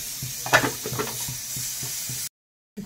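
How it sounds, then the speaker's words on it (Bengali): Litti fries in a pan with a close, steady sizzle and a few light knocks of a utensil, ending in a brief silence before the sizzle resumes. "তো বাকিগুলো আমি একইভাবে ভেজে নেব"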